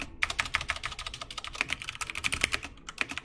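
Rapid clicking of computer keyboard keys while typing code, a dense run of crisp close keystrokes with brief pauses, no speech.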